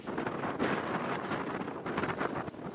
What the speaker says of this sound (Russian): Вот здесь вот ветер дует сильно.